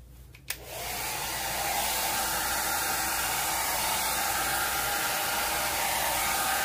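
A hair dryer blows steadily and loudly at high speed over wet acrylic paint in a rainbow Dutch pour, a broadband rush of air starting after a brief click and holding constant throughout.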